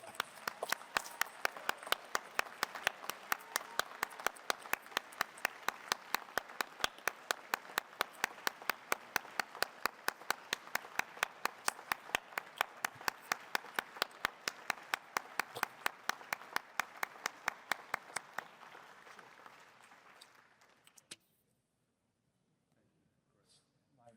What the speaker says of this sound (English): please join me in a hearty, correct round of applause for Lieutenant Colonel Hanson.